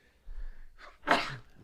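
One close, sudden sneeze preceded by a quick sharp inhale, short and loud in an otherwise quiet moment.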